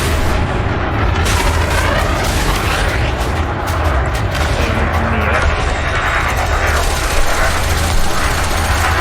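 Spaceship weapons firing in Elite: Dangerous: loud, dense bursts of booming gunfire and mechanical clatter run nonstop, with a voice talking over the barrage.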